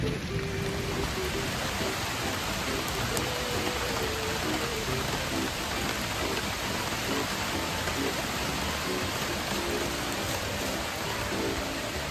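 Heavy rain pouring down in the West Virginia woods during a bow hunt, a loud, dense, unbroken hiss of drops hitting surfaces all around, steady from start to finish.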